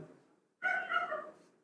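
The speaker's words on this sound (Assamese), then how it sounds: "বাহিৰত কুকুৰে ভুকি আছে ইগনোৰ কৰিবা" A single dog gives a short, whiny bark-yelp, fairly faint and distant, after a brief low murmur.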